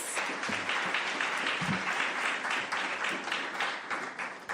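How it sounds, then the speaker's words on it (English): Steady audience applause at a livestreamed speaker event, many hands clapping continuously at even strength for several seconds before easing slightly. "Let's give them a round of applause."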